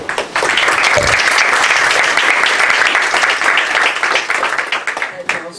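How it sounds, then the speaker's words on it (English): Audience applause at an International Peace Institute gathering as a president takes the floor, a loud dense rush of clapping that swells in and tapers toward the end, with some voice mixed in. "I also applaud"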